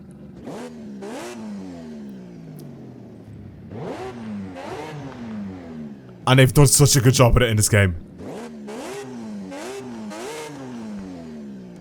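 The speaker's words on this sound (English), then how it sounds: "the 20B is one of my favorite engine sounds ever on any car" A Mazda RX-8 drift car with a 20B rotary engine revs in Forza Horizon 5, rising and falling in repeated high-pitched sweeps under close talking, with a brief loud burst of full-throttle rasp midway.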